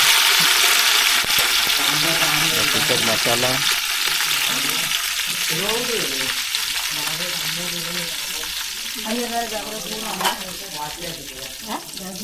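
Curry leaves and chili masala crackle and sizzle in hot oil, a steady broadband frying hiss with stirring clinks that runs the whole time, while a voice talks over it.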